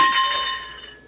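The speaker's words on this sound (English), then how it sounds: "that's just the cat's bowls" A quick glassy clink of cat food bowls knocking together, bright and close, ringing briefly before fading out.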